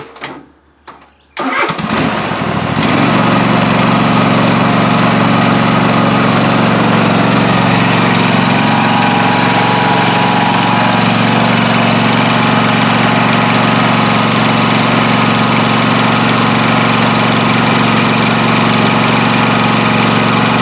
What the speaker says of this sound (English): So I'm gonna start mowing.